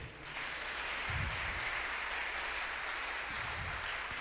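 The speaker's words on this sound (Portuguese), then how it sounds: "Pode aplaudir." Congregation applause during a church sermon, a steady, distant wash of many hands clapping in a large reverberant hall, faint and even with a low rumble underneath, no clear voices over it.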